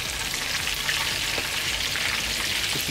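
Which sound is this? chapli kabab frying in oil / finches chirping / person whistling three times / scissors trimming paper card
chapli kabab frying in oil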